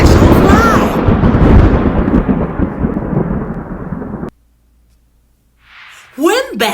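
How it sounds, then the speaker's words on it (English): A loud thunderclap sound effect in a read-aloud children's story, a sustained rumbling crash lasting about four seconds before cutting to near silence, followed by a brief faint hiss and a short burst of sound at the end. "There was a great clap, like thunder, and a flash of light."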